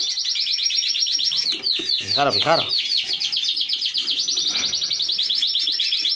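Birds in an aviary chirp and tweet in a dense, continuous high chorus, with someone speaking close by over the calls.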